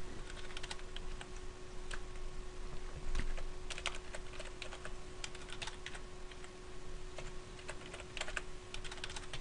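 A password is typed on a computer keyboard: a quick run of crisp, close key clicks in uneven bursts over a faint steady hum, with no talking.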